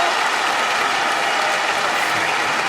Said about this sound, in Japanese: 場内は大歓声。